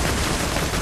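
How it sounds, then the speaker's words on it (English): Gunfire from the video game Borderlands 2 fills a brief burst, loud and dense, like rapid shots packed together with no pause. "Are you shooting me?"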